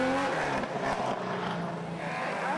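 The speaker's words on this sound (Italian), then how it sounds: "A seguire i saluzzesi Silvio Revelli e Cristiano Giovo su Porsche 911 SC." A Porsche 911 SC rally car at the Memorial Conrero 2013 rally is heard as a loud, close engine roar that swells and falls, with the harsh rasp of hard driving.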